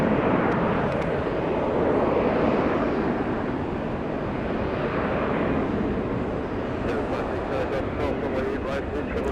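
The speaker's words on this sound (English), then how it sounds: "Shiny plane, brand new plane." An airplane at Atlanta Hartsfield-Jackson International Airport gives off a continuous broad roar of jet noise that swells and holds steady, with a voice speaking over it.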